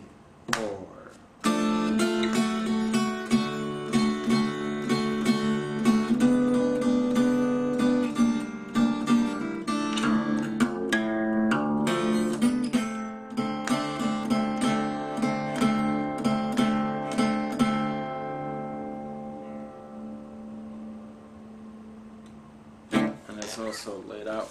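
An acoustic guitar plays the introduction to a song in a Delta blues style, picked clearly and up close after a spoken count-in, then rings out into a brief pause.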